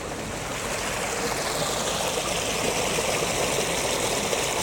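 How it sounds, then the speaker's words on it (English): Water runs down a deep ditch beside an old railway route, a steady, dense rushing and gurgling that stays loud and close throughout without any talk. "See how much water is running down there."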